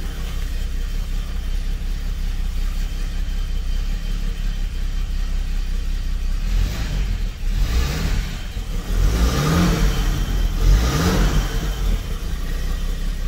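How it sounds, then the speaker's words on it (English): A cold BMW 745i E23 engine rumbles steadily, then gets a few short, gentle revs that swell and fall back toward idle, close and fairly loud with no talking. "Not too much rev because the engine is cold."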